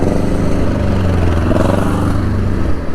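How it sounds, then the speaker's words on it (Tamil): A motorcycle engine runs loudly up close, a rough, throbbing mid-pitched drone that holds steady for a few seconds. "வண்டி சவுண்டான வித்தியாசமாக இருந்தது"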